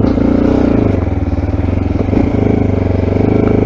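A Mondial Rx3i motorcycle engine idles steadily on a cold morning while warming up, a loud, close, even putter with a faint mechanical clatter and no talking.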